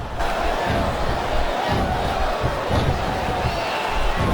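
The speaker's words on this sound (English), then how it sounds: "The crowd is coming alive." A wrestling arena crowd roars continuously in WWE SmackDown vs Raw 2008 during a Theodore Long versus William Regal submission match, a steady dense wash of cheering with faint thuds.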